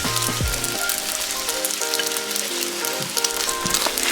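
Shrimp pad thai sizzles loudly in a hot pan with pad thai sauce, a steady dense frying hiss throughout with a few brief stirring scrapes near the start and no talking.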